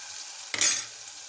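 Onion paste with green chillies is stirred in hot oil, giving a sudden short burst of sizzling that fades quickly into a faint crackle.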